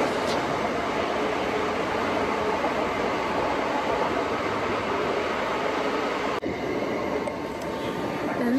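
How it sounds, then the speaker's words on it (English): A train stopped in the middle of the track on a dark, cloudy evening: a steady, dense rumble and hum of the idle train carries on throughout, broken by one sharp click near the end. "The train is just chilling, like right? Just stopping on the middle of the track"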